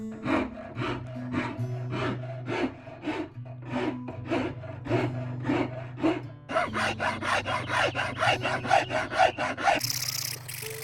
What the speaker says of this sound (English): I'm going to use more abrasive tools like a rasp.